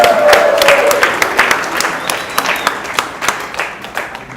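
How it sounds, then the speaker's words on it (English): Audience applause at an art gallery spring gala, steady clapping from a crowd of many hands that rises and then thins into scattered claps, with a faint voice briefly underneath. "we'll just give a round of applause to them all"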